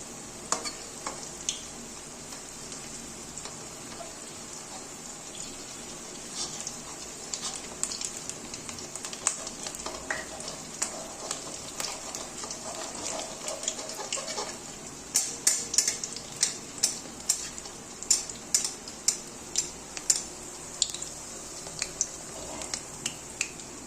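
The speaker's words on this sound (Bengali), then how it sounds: "তাই আঁচটা একদম কমিয়ে নিয়ে এখন আমি ভেজে নেব বড়াগুলো" Bottle gourd kofta balls frying in oil over a low flame, a steady soft sizzle with occasional scraping and stirring clicks growing more frequent toward the end.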